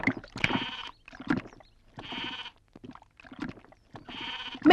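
A goat bleats close by in a series of about four drawn-out, wavering calls separated by brief pauses.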